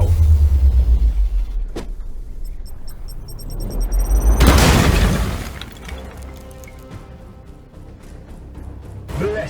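A single heavy weapon shot fired in the video game Chaos Gate, a loud booming blast with a shattering crash that swells and fades into a lingering rumble, following a low engine-like drone.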